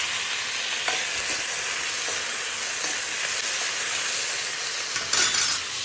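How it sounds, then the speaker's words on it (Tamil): Tomatoes sautéing in a pan with whole spices such as cloves, fennel and poppy seeds, a steady broadband sizzle holding up throughout with a few faint stirring scrapes, close by and without talk. "தக்காளியும் போட்டு வதக்கிடலாம்."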